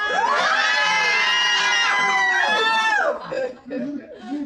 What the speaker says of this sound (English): I want everybody to scream.